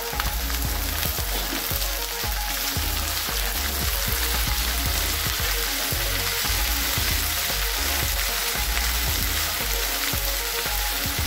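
Cut okra pieces fry in hot oil for an okra pulusu, giving a steady, close, crackling sizzle that runs unbroken throughout.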